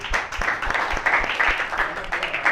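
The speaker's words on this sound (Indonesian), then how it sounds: "Guys, tepuk tangan sekali lagi untuk Daru." Audience applause at a live comedy show, a dense patter of clapping that runs steadily through the moment, close and lively, with crowd noise mixed in.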